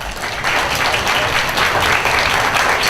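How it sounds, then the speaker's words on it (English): An opening-ceremony crowd at the 2013 Armada Fair bursts into applause for the fair president, dense clapping that rises after a brief start and holds steady and loud. "Big round of applause."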